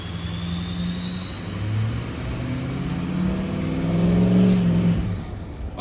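A truck engine with newly fitted injectors idles steadily two minutes after a cold start, a close continuous rumble under a rising high whine, no talk.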